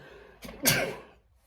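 A single sneeze bursts out indoors amid a church talk, a short sharp intake followed by a loud explosive release that fades within about half a second.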